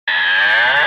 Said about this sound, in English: That's correct. It was a cow.